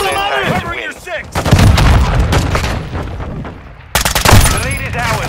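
Loud bursts of automatic gunfire and heavy impacts from Call of Duty: Modern Warfare II multiplayer. Rapid cracks pile up in clusters, with a brief drop in the middle, and shouted in-game voice lines come through at the start and near the end.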